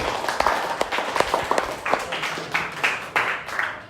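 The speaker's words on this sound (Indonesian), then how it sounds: "Oke, tepuk tangan untuk kita semua ya." A classroom group claps for everyone after presentations in a teaching practice session, scattered and uneven hand claps with sharp individual slaps rising and falling over a few seconds, no talking.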